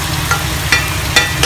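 Beef with onion and capsicum stir-frying in a pan for a black pepper beef dish, a steady close sizzle with a few sharp scrapes of the spatula.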